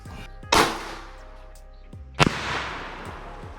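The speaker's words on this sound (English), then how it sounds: "Left is going to be 44 Magnum at 50 yards. The right is going to be 450 Bushmaster at 50 yards." Two loud, sharp gunshots crack out close by, one from a .44 Magnum and one from a .450 Bushmaster, each aimed at a target 50 yards away. The shots come about two seconds apart, each with a short echoing tail.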